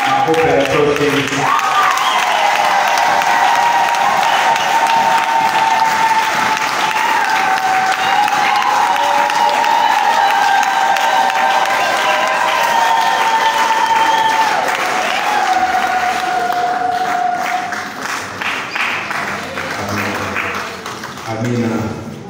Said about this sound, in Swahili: Makofi ya toshi.